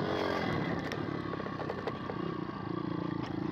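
A Welsh pit bike engine revs hard while being ridden, a loud, buzzing two-stroke-like drone that rises and falls between gear changes, close up and continuous with clattering over rough ground.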